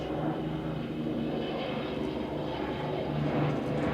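An Avro Lancaster bomber flies at the Duxford airshow, its engines giving a steady, loud, continuous drone that holds unchanged with no talk over it.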